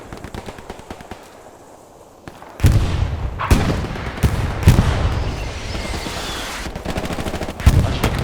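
Gunfire in the World War II shooter Hell Let Loose during a match on the Foy map: a quiet lull, then sharp bursts of rifle and machine-gun fire, several close loud shots among a rattling background fusillade.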